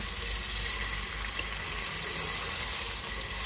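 Steady, loud sizzling and crackling of onions frying in hot oil, continuous with no voices.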